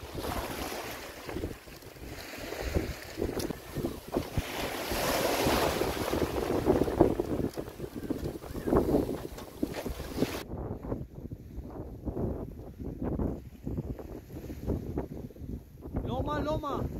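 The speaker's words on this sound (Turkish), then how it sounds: "Okyanus gelip bunlara çarpıyor" Ocean waves crash onto the sandbanks off Loma Loma island, a rolling surf roar heard from a boat amid heavy wind buffeting, with people talking over it.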